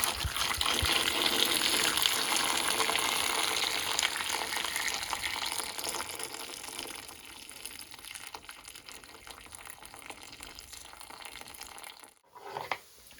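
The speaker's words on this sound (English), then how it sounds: "I'm now just going to pour some boiling water over them" Boiling water gushes and splashes as it is poured over beans, loud and close at first, then tapering to a thinner trickle before stopping near the end.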